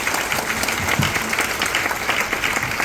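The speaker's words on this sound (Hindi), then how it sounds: "जोरदार ताली आप सभी के लिए।" Loud, dense applause from an audience at a speech, a steady roar of many hands clapping throughout with no voices on top.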